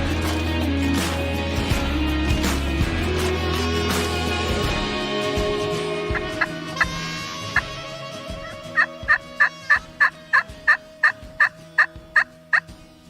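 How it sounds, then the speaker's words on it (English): Wild turkey gobblers in a bottomland gobble loudly and repeatedly at close range during spring turkey season. Their calls overlap at first, then turn into a rapid run of sharp, evenly spaced gobbling notes toward the end, with no talk. "We just spotted some gobblers down here in the bottom."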